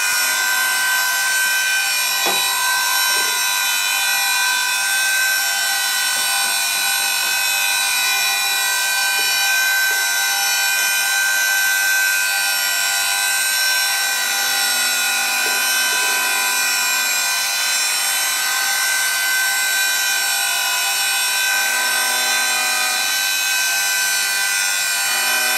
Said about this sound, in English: now I'm going to chamfer the top of the teeth.